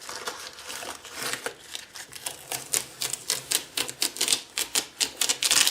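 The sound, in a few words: scraping overspray off guitar bindings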